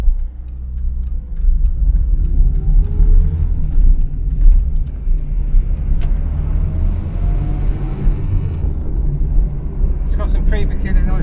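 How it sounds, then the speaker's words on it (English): A Renault 9 being driven with a worn clutch, its transmission giving a low rumbling drone under road noise, with faint whining tones sweeping upward and a clicking patch near the end. "Pretty peculiar noise from the transmission there."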